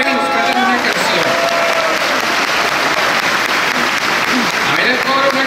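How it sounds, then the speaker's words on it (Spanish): An audience applauds for a church choir, a dense sustained clapping that stays loud and steady throughout, with voices and cheers mixed into the crowd noise. "Démosle un aplauso al coro y nos canten una canción."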